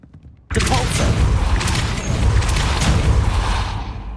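A Depulso spell cast in the video game Hogwarts Legacy: a sudden loud blast that rolls into a sustained, rumbling whoosh and slowly fades.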